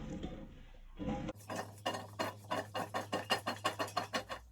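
Food is tossed with oil and cinnamon in a bowl, producing a quick run of rhythmic scraping, clattering strokes close by, about a dozen regular beats after a brief rustle, with no talking.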